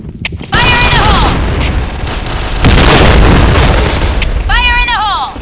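Grenade blast in the online shooter Point Blank: a loud, sustained booming roar with overlapping burst and gunfire texture, bracketed by short shouted in-game voice callouts near the start and end.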